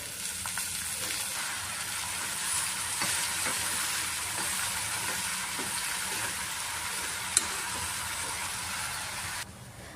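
Hadga flowers cook with chopped onion, salt and turmeric in a pan, producing a soft, even frying hiss with light rhythmic stirring scrapes throughout and one brief sharp click near the end.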